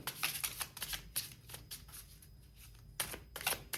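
Tarot cards shuffled and drawn by hand: crisp riffling bursts near and fairly loud, a quiet pause in the middle, then more quick shuffling snaps.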